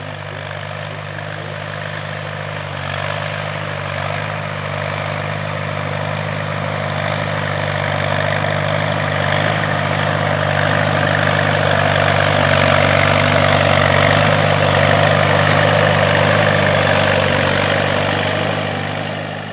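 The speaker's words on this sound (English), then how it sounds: "let's head out to the field so you can see and hear this classic tractor plowing" An Allis-Chalmers D-17 row-crop tractor works a field while plowing, its engine a steady, close, throbbing drone that swells slightly louder midway and holds without pause for nearly twenty seconds.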